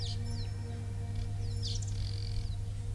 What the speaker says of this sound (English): There may be birds tweeting.